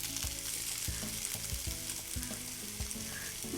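Sausage sizzles and fries in a hot pan for pasta with red wine sauce, a steady crackling hiss with repeated scraping stir strokes close to the microphone, with no voices.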